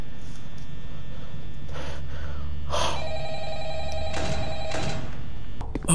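An old-style telephone rings repeatedly in a Roblox Five Nights at Freddy's game, its bursts of ringing recurring over a low game drone, with a few faint breaths nearby.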